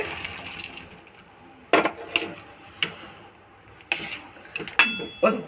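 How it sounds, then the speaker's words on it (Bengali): Whole jujube fruits dropped into a cooking pan for a sweet-sour pickle, making a series of knocking clatters and clinks at irregular intervals against quiet kitchen background. "এবার কুলগুলো দিয়ে দেবো কুলগুলো সেদ্ধ হবে"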